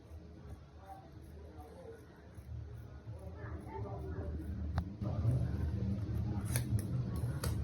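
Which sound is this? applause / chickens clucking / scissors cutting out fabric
scissors cutting out fabric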